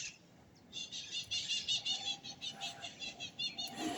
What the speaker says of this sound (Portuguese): Vocês devem estar ouvindo muitos passarinhos nesse vídeo.